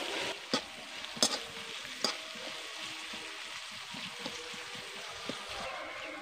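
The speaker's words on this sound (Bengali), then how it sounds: "এবার কিছুক্ষণ আরও ভেজে নেব, এতে মটরগুলো একদম ভালো করে ভাজা হয়ে যাবে।" Green peas with chopped onion, green chilli and salt frying in a pan, a soft low sizzle with a few sharp spatula taps against the pan, quiet and close.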